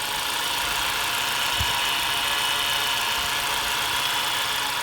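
A 2013-17 Honda Accord engine idles with a steady, close, high-pitched whine from a worn belt tensioner pulley running continuously under the engine hum.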